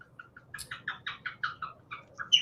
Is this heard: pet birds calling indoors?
yes